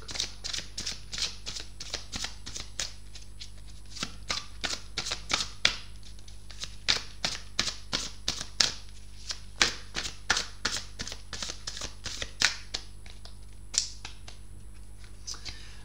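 Large tarot cards are handled and spread across a surface, making a steady run of quick, close flicks and soft slaps at low volume.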